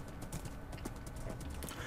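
Horse hooves clip-clop in Minecraft, a steady run of light hollow clops, faint under low background noise with no talk.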